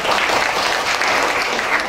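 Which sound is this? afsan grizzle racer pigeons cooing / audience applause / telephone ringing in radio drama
audience applause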